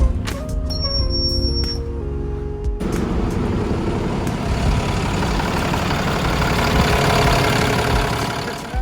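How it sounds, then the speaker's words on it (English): A bus engine idles steadily and loudly with a low rumbling drone after a new hose was fitted, following a few brief tonal sounds at the start. "engine's been running for a few minutes"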